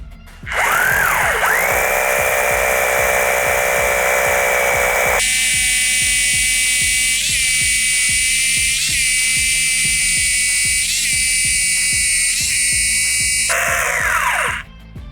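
A Procraft cordless rotary hammer bores holes with a 12 mm bit, giving a loud, close, whining motor drone with rapid hammering pulses underneath. It shifts abruptly to a higher pitch partway through, then winds down near the end, with no voices.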